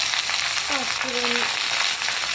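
Vegetables fry in a hot kadai with a loud, continuous hiss and sizzle. A brief scrape of stirring rises twice over the steady frying.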